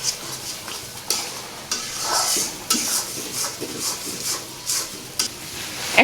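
Ginger, garlic and cumin paste fries in hot oil while a utensil stirs and scrapes the pan, with a steady sizzle broken by repeated close clanks and scrapes.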